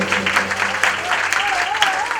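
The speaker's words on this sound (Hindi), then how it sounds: "जोरदार तालियां से" Applause from a devotional gathering at a Bhagwat Katha, steady dense clapping throughout while a voice sings or speaks over it.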